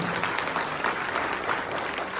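An audience bursts into steady applause at a business plan presentation, many hands clapping loudly and continuously throughout.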